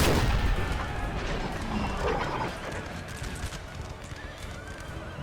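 French cavalry horses charge across a Napoleon: Total War battlefield, whinnies and thundering hooves over a dense din of distant musket and cannon fire.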